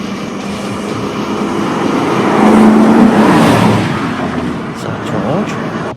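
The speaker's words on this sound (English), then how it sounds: "The sound of an approaching engine turns out to be nothing more than oncoming traffic." An engine rumble swells as a vehicle approaches and passes, then fades back toward a lower roar of traffic, with a voice speaking under it.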